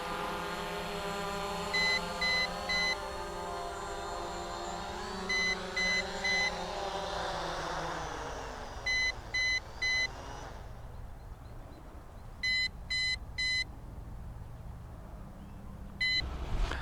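Electronic beeps sound in repeated sets of three, steady and high-pitched, over a low whirring hum that winds down and drops away midway.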